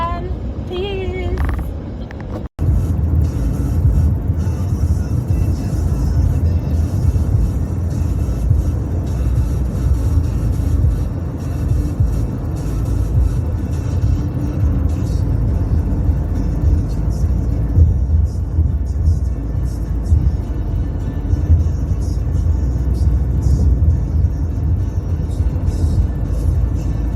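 A car drives along a road toward a destination, its steady engine rumble and road noise continuous and loud from inside the cabin after a brief dip near the start.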